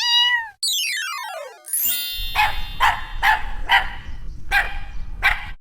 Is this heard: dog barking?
yes